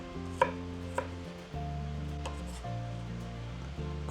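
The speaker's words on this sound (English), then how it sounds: "So we're cutting it up, slicing it up." A knife slices garlic on a cutting board, giving a few sharp, separate chops over a steady hum of background kitchen noise. No voices are heard.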